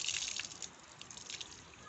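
Clean, filtered water rushes under pressure from a newly installed water pump, a steady hiss of flowing water at moderate distance with no voices.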